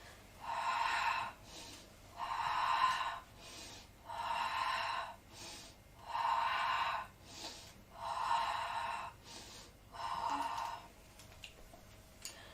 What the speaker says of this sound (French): Je souffle pour allonger la jambe et j'inspire